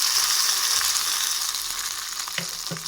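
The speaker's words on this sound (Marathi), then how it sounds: "थोडीशी उडदाची डाळ तडका आपण छान या चटणीवरती घालून घेऊया" A urad dal tadka with dried red chillies, poured hot over chutney, sizzles in a bright, steady hiss that slowly eases, with a couple of soft clinks near the end.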